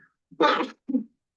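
A single sneeze in a committee meeting room: a short, loud burst followed by a softer trailing exhale, set against near silence.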